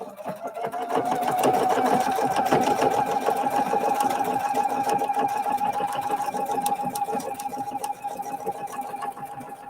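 PFAFF sewing machine stitching fabric at a steady fast pace, a close rhythmic mechanical whir with needle clatter that runs throughout without talk.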